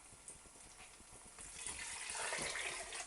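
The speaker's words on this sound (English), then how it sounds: "So I'm going to make that up now with some water." Tap water runs steadily into a large soup pan in a home kitchen, a broad hiss that swells louder and fuller over a few seconds as the pan fills, heard up close with no talking.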